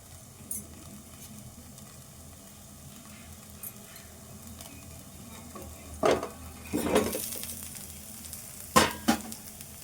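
Atlu flatbreads made from dry flour fry in a covered pan with a steady low sizzle, broken by a few sharp pops and bursts near the end.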